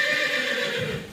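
A mare neighs once, a loud close whinny with a wavering high pitch that fades out over about a second, heard alone without talk.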